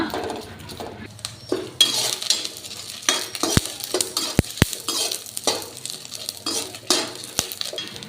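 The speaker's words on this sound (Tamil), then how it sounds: "இதை அப்படியே லைட்டாக எண்ணெயில் வறுத்துக்கலாம்ப்பா" Old, darkened tamarind lightly fried in oil for a village-style horse gram chutney, stirred with a utensil that scrapes and clinks against the pan in irregular strokes over a soft background sizzle, close and fairly quiet, with a few sharp metallic taps.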